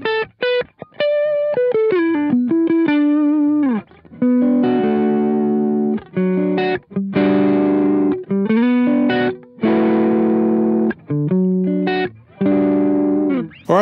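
Gretsch electric guitar strumming a rhythm in short chopped chord bursts, loud and close, with distorted effects and brief gaps between phrases.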